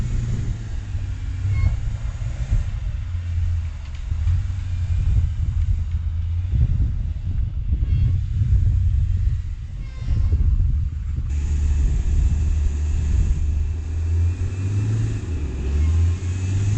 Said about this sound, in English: he's gonna drive it right up on those ramps